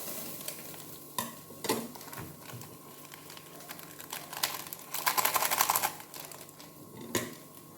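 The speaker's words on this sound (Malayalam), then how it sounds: "മസാല കൂടെ നീക്കിയെടുക്കുകയാണ്" Masala being stirred and fried in a pan for noodles, with soft sizzling under repeated scraping and clattering strokes of a spoon, louder bursts of stirring in the middle and near the end.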